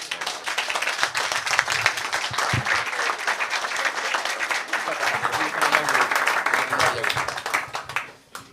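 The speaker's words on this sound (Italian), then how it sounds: "buon ascolto e applauditelo perché merita davvero" An audience applauds a maestro at a live Christmas-season event in Villaurbana, a dense, steady wash of clapping that carries on for several seconds and then fades out at the end.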